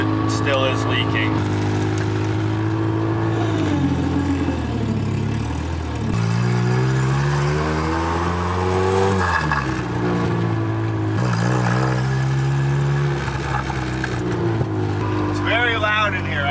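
Honda Civic EK with a swapped K24 engine, heard from inside the loud cabin while driving, the engine droning and rising in pitch through gears with revs climbing and dropping, a voice talking over it.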